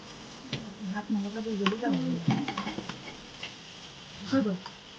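Grated coconut and sugar are stirred in a hot karahi, a spoon scraping and clinking against the metal in irregular strokes with a soft sizzle, close by, while someone talks over much of it.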